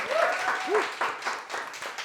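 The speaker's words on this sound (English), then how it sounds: "So let's give you a round of applause for being so brave." A small audience claps for a first presenter in a classroom-style session, a short, moderate burst of applause with a voice speaking over the start.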